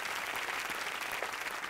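Studio audience applause on a Hindi TV game show, a steady wash of clapping throughout, fairly quiet and distant with no speech over it.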